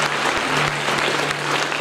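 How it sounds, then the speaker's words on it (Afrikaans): Church congregation clapping for the Lord during a service, a steady dense wash of applause from many hands throughout, fairly loud and close. "Klap vir die Here."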